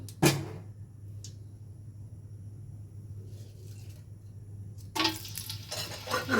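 Mustard oil poured into a cooking pot for beef tehari, a soft hiss and faint sizzle under steady low kitchen hum, with brief clatters of pan and utensil near the start and a louder burst of sizzling toward the end.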